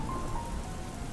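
Storm rain falls steadily and fairly loud, a dense wash of drops spattering a surface for the whole short stretch, with a faint tonal whine briefly above it and no voices.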